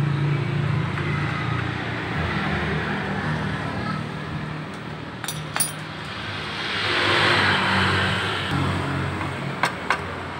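Motorcycle engine idling with its exhaust pipe removed, a steady rough rumble close by with a swell of louder running midway and a few sharp clicks, while people talk nearby.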